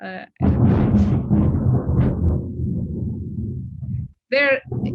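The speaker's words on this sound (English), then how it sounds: "Therein lies one of my powerful statements, a clap of thunder." A loud clap of thunder booms and rolls on for about four seconds as a broad, deep rumble that slowly fades, then a voice speaks briefly afterward.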